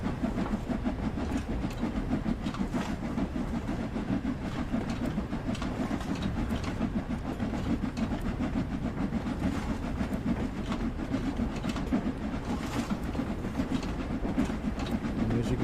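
A steam locomotive in the Train Sim World 2 game pulls away, with a continuous rumbling rail and chuffing drone that stays steady and moderately loud, with no voices.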